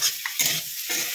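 Fried potatoes get tossed through sizzling masala in a pan, giving a close hiss that swells and ebbs in three quick bursts as the mixture is stirred.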